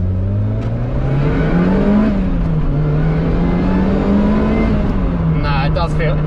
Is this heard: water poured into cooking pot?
no